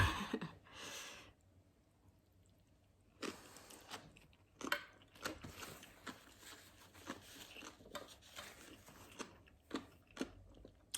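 Close, crunchy chewing and biting sounds while eating Lao-style papaya salad come in irregular bursts, with a quiet pause early on and no talking.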